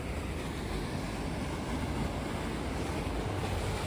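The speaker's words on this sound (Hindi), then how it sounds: "ओ कितने स्पीड पे गिर रहा है पानी।" A fast-falling mountain stream on the road to Gangotri rushes in a dense, continuous roar of water, loud and close, with no voices.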